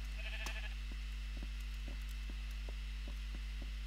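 A sheep bleats faintly and briefly in the video game Minecraft, a short nasal call near the start over a steady low hum and soft regular thumping.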